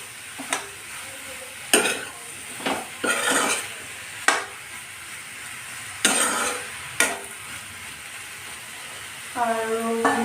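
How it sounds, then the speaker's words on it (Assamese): Ridge gourd and tomato being stirred in a pan, with a soft sizzle under a series of sharp scrapes and clinks of a spoon against the pan at uneven intervals. "এয়া জিকা বিলাহী এনেকৈ মিক্সকৈ লাৰি দিছোঁ।"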